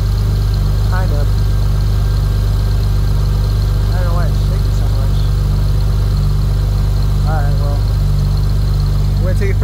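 A modified Acura TL with a newly throatier sound idles in a steady, low, continuous rumble, slightly shaky, while people talk nearby over the engine.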